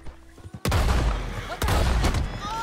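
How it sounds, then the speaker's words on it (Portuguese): Gunfire in the video game Red Dead Redemption 2 Online: two loud, sharp shots about a second apart, each followed by a booming tail, after a quieter stretch of game ambience. "Errou os dois tiros e... derrubou a mulher ainda."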